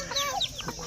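Rooster clucking at a wedding gathering, a few short close calls over a busy background.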